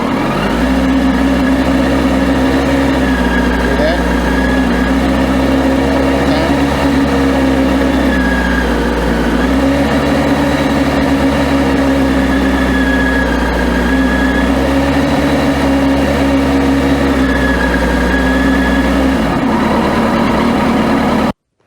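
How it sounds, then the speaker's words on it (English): Motorcycle ridden slowly back and forth at steady revs while working the clutch friction zone, a loud continuous engine drone with gentle dips and rises in pitch, close by. "now I'm going to ride back and forth so you can hear the difference in the sound when I engage the friction zone"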